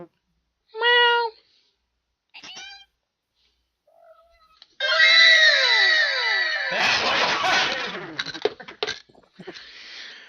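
A person mimics a cat, giving a couple of short meows and then a longer, drawn-out wavering cry, with some scuffling noise after.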